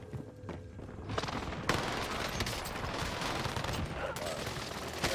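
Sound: gunfire in video game Warzone

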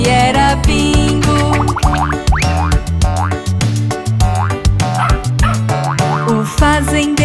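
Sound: dog barking in children's song

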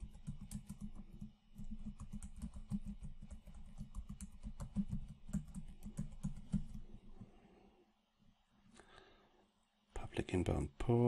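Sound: typing on a computer keyboard

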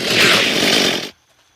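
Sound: chainsaw swung at zombies in the video game Unturned

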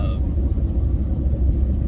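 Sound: truck driving while pulling a trailer

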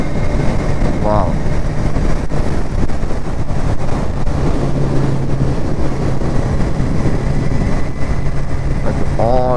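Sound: wind while riding a Kawasaki Ninja 1000 motorcycle

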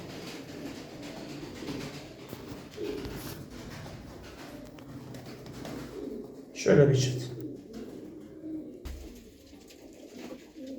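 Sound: birds

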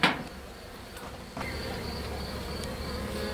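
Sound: bees buzzing

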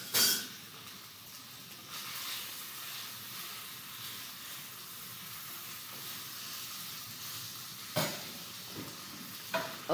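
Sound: stirring lunch frying in a pan

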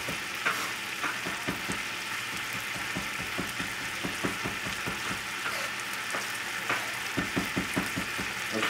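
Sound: snails sizzling in a frying pan

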